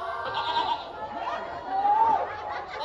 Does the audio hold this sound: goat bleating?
yes